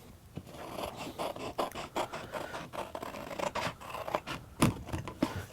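Scissors or a blade cut a handmade sandal sole along a marked line, making close, uneven rasping snips and scrapes in short bursts with brief pauses, and no voices.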